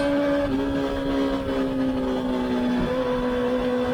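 A race car's engine drones steadily on a track, its pitch stepping as the driver downshifts into first gear, a loud, close, continuous tone with no talk.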